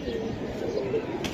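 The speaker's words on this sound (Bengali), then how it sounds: "এটা বেজি কবুতর" A Bezi pigeon coos softly in low, rolling tones close by, with a murmur of background voices and a brief rustle near the end.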